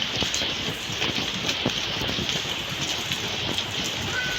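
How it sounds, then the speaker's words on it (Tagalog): Heavy rain pours steadily outside a house, a loud, unbroken hiss and patter of drops on surfaces throughout. "Grabe ulan."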